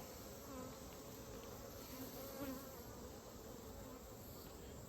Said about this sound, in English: Yellow bees with bright yellow pollen.